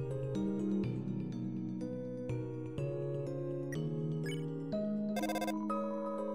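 Cheerful electronic ringtone melody from the phone in the video game Undertale, repeating rapid chiming notes steadily and clearly throughout with no talking.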